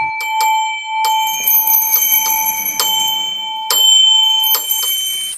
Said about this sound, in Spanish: resonó con fuerza y le acompañaron todas las campanillas que había en la casa